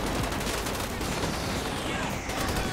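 Gunfire in GTA 5 during a police SWAT shootout, a dense barrage of loud overlapping shots with no gaps, continuous for a few seconds.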